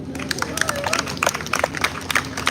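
A festival audience in Washington, D.C. claps for a poet at a live event, a dense patter of hands rising and falling over a murmur of crowd noise.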